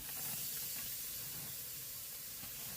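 Chickpeas going into a tomato masala for chickpea curry, heard as a faint, steady hiss of sizzling and steam with no talking.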